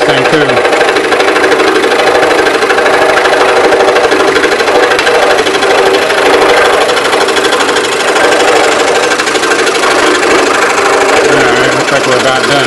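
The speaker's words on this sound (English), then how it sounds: "Now I got to drill a hole through this thing too." A drill bores through a wooden scroll-saw star tree in a woodshop, a loud continuous whine held close for the whole stretch with little change.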